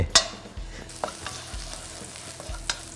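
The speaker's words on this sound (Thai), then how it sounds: "เราก็จะเอาน้ำมันเนี่ย ผัดกระเทียมก่อน" Chopped garlic stir-frying in hot oil in a wok, a crisp continuous sizzle broken by several sharp scraping stirs of a utensil against the pan, with no talking.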